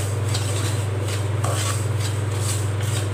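A utensil scrapes and stirs semolina roasting in ghee over a low flame in a pan, a continuous soft rustle with rhythmic strokes over a steady low hum, close and alone.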